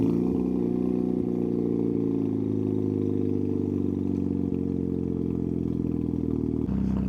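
A Mazda FD RX-7 sports car's rotary engine idles close by, a steady, throaty low hum with a slight shift near the end and no talk over it.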